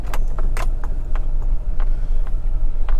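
A large vehicle travels a road in Mount Carey, St. James, Jamaica, after hurricane damage, giving a steady low rumble broken by sharp rattling clicks and knocks from inside the cab.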